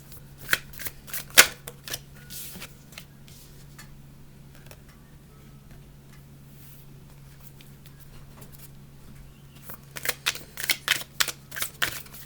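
Tarot cards being shuffled by hand at the start of a Libra reading, with crisp riffling bursts near the beginning and again toward the end, a quieter stretch between them, and a steady low hum underneath.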